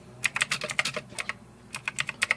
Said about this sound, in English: just in terms of hitting the keys, well, me failing miserably at typing because I'm at a weird angle